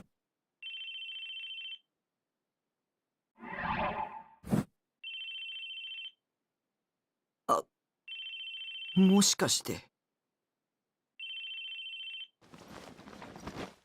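A phone rings in the Chaos;Head Noah video game, repeated electronic ring bursts about a second long separated by silences, interleaved with short game sound effects and a brief spoken voice.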